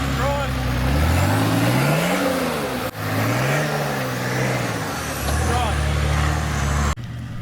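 Nissan Patrol GU 4WD crawling off-road at a charity four-wheel-drive meet, its engine revving up and down loudly and continuously, with a voice talking over it.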